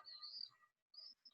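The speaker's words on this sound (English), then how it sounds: "Can you still hear the birds chirping?" Faint, high chirps from birds in two short bursts separated by a brief silence, distant and soft.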